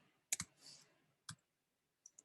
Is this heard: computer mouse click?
yes